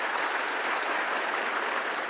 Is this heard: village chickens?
no